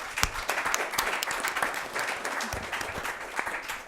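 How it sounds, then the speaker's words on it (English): Warm applause for panel participants at a public briefing, a crowd clapping steadily with distinct sharp hand claps standing out, sustained and fairly close. "I'm asking you for a warm applause for our participants"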